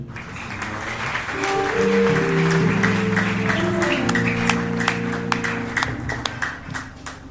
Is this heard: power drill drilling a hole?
no